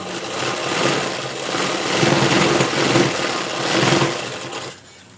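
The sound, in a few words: sewing machine stitching a folded blouse piece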